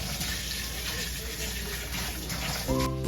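Tap water runs steadily and loudly into a basin where pork intestines for isaw are set to soak, a close, continuous gushing rush that ends with a brief clatter.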